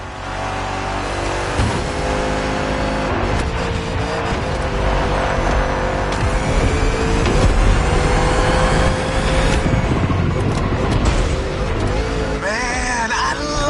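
A mean muscle car engine roars steadily through an off-the-grid street race in a video game, loud and continuous with rising revs and a rock song playing over it.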